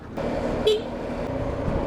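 A single short motorcycle horn toot rings out over the hum of the running engine and passing road traffic.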